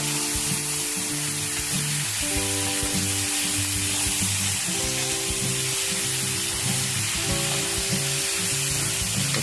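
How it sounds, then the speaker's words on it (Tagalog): Pork sautéed in a pan for pork binagoongan gives a steady, close sizzle and crackle throughout, with a persistent tonal hum running underneath and no talking. "Gigisa natin yung karne."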